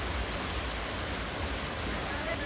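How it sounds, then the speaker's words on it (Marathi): Light rain falling outside, a soft, even hiss of drizzle continuing throughout with no distinct drops standing out. "हो पाऊस कुठे जास्त पडायला लागलाय, एवढंच 2 थेंब पडतोय"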